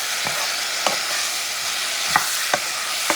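Lamb with coconut curry flavor mix frying and being stirred in a pan gives a steady close sizzle, broken by four or five sharp spoon scrapes against the pan.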